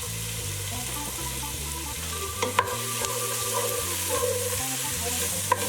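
Minced garlic and smoked sausage fry in a pot, a steady close sizzle with occasional stirring scrapes and clinks, no voices.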